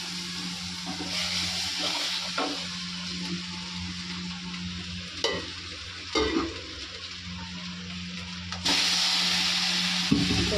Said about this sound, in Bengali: কড়াইয়ের মধ্যে সাদা জিরে দিয়ে দিয়েছি আর এখানে শুকনো লঙ্কা তেজপাতা আর এই যে আদাটা দিয়ে দেবো